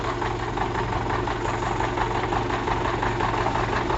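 An engine idles steadily after a cold start, warming up with a constant low rumble and faint knocking rattle, close and continuous with no talk.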